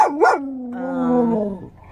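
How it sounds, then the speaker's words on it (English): A dog in a car gives a short yip at people walking outside, then a long, drawn-out whining howl that slides down in pitch, close and fairly loud, with no talking. "This is Waffles barking at these people walking outside the car right now"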